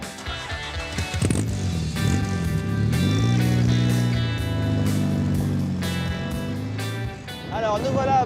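A Triumph TR3 British roadster drives along a road, its engine a steady low drone that swells and shifts as the car accelerates and changes gear, loud and close, with no talk over it.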